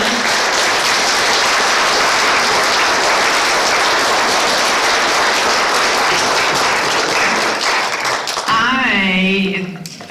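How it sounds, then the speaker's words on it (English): An audience at a community meeting about Nevada tribes gives a long, loud, dense round of applause that holds steady, then fades as a voice begins speaking at the end. "Okay, let's give another round of applause."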